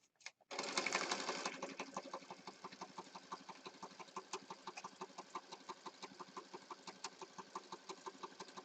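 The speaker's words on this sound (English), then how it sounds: "we're doing lots of sewing" Sewing machine stitching junk journal pages, starting with a brief loud whir, then a steady fast run of rhythmic mechanical clicks from the needle, close and without talk.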